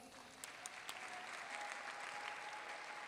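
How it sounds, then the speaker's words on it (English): An audience applauds dancers taking their final bow after a Sidney Dance Company Nutcracker performance, a steady wash of many hands clapping that sounds faint and distant. "Give them a big round of applause."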